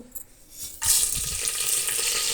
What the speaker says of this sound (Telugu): ఆయిల్ హీట్ ఎక్కింది. ఇప్పుడు దీంట్లో తాలింపు దినుసులు వేసేసుకున్నాము.